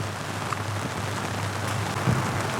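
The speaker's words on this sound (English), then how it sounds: "it started raining" Rain begins falling on an anchored boat, a steady broad hiss of drops with a low hum underneath and a brief thump near the end, no voices.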